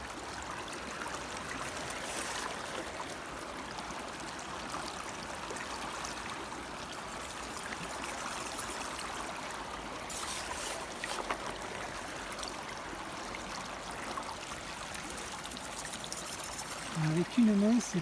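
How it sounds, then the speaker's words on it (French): A bucket of water is poured through a gold-panning sluice ramp outdoors, giving a steady rushing, trickling flow at moderate level from start to finish. "je vais passer le seau dans la rampe et on va voir ce que ça donne"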